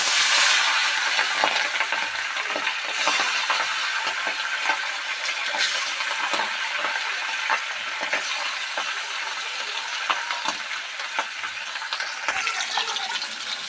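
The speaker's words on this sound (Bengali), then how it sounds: "তো এখানে আমি একে একে মাছগুলো ভেজে নেব" Hilsa fish pieces sizzle in hot mustard oil, a continuous close crackling hiss with scattered pops and spits, steady throughout with no talking.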